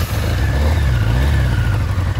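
A Honda CB550 Nighthawk motorcycle engine running on freshly rebuilt carburetors, a loud, close, steady low rumble throughout with no talk.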